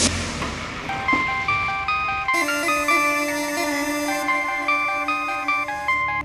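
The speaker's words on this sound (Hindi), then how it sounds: "हमारे पास एक फोन आया" A bright melodic ringtone plays a repeating chime pattern, clear and steady, over a faint background for several seconds.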